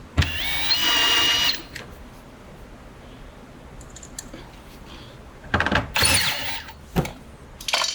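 A power driver spinning screws into a GE washer door cover, with a loud whirring burst up front, then two shorter bursts later, separated by quiet handling noises.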